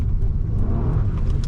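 A 2005 Acura TL 3.2 with a six-speed manual pulling away under throttle, a close low engine rumble heard from inside the cabin, steady and without speech.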